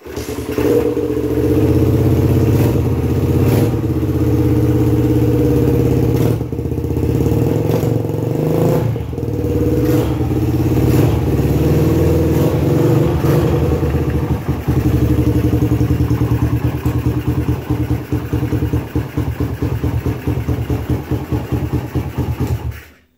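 A Suzuki Satria FU motorcycle engine, unstarted for several weeks, runs steadily at close range, a continuous low idle with slight unevenness and a few throttle blips, no talking over it.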